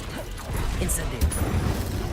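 A fire spell is cast in the video game Hogwarts Legacy: a short, sharp crashing impact with a mechanical rattle, standing out briefly against a steady bed of game sound.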